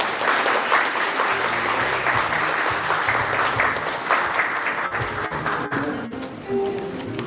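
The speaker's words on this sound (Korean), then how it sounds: "큰 박수로 환영을 부탁드리겠습니다" An audience at a Sejong civic event gives warm, continuous applause welcoming the head of the Daejeon Sejong Research Institute to the stage; the clapping is loud and steady throughout, with no talk over it.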